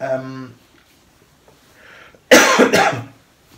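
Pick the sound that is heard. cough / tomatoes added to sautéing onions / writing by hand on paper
cough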